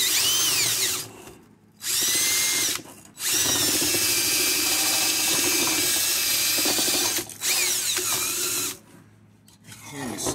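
A ratchet or power driver working bent, corroded studs off a Cub Cadet 1882 garden tractor in a workshop, running in loud sustained bursts with a few short pauses between them, alone without talk.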